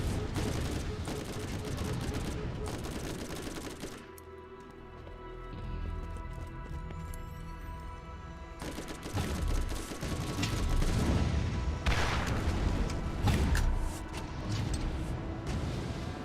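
Gunfire in the Borderlands video game, with rapid bursts and repeated shots clattering through busy mechanical game noise, loud and dense, easing briefly before picking up again.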